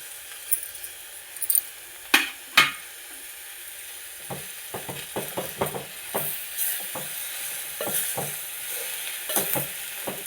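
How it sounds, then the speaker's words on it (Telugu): Urad dal and eggplant curry is stirred in a pan, a spoon scraping and clinking against the metal in irregular bursts over a faint frying sizzle, close and without talk. "ఇవి ఒక్కసారి బాగా కలుపుకోవాలండి."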